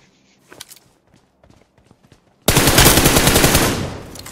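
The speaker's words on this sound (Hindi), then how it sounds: "गोली चला रहा है" A few faint taps and clicks, then a loud, sustained burst of rapid gunfire in the mobile game BGMI erupts, dense and continuous for about two seconds before easing slightly.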